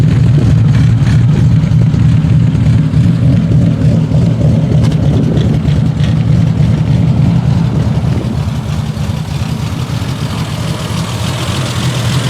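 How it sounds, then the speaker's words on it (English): A car engine running on Stromberg carburetors idles with a loud, deep, uneven exhaust burble, heard close to the tailpipe for the whole stretch, with no talking. "Seems to be running much better on the Stromberg carbs versus the Webers. So, a bit of a burble back here."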